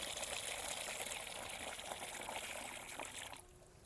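Water poured steadily into diluted liquid plant fertilizer for watering cucumber plants, a continuous splashing trickle heard up close for several seconds, cutting off abruptly near the end.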